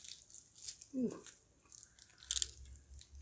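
Quiet, close crunches of someone biting into crispy spicy Thai crunch fried chicken, with a few short crisp bursts spread through the clip and a brief vocal murmur near the start.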